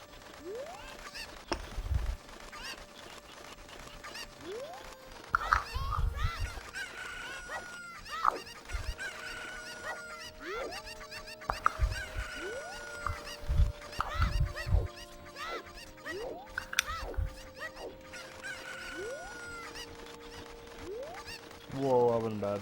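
Chickens cluck and honk as in-game sound effects in a Zelda speedrun, short tonal calls and squawks repeating throughout over game music and noise, while a voice talks now and then.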